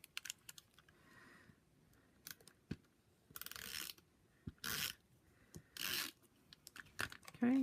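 A snail adhesive tape runner clicks and ratchets in short bursts as strips are rolled onto an embossed paper card, with sharp close clicks separated by quiet pauses.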